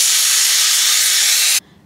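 A pressure cooker holding moong and paneer vents steam in one loud, steady hiss that lasts about a second and a half, then cuts off abruptly, leaving near silence.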